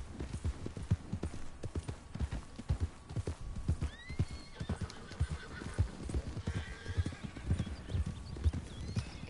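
Horse hooves clip-clop steadily in Red Dead Redemption II, with a whinny partway through and a soft game score underneath, the hoofbeats staying close and continuous throughout.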